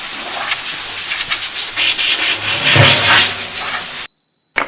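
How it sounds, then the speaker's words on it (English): Compressed air blasting dust off a rusty metal barrel in a steady, loud broadband hiss that holds for about four seconds and then cuts out abruptly. "So I'm gonna airbrush all the dust off"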